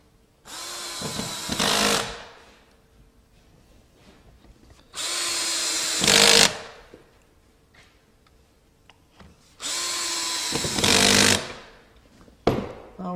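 Power drill driving screws into wood during trim carpentry on a newel post cap, three loud close bursts of whirring, each rising in strain as the screw seats, separated by quiet pauses with small handling clicks.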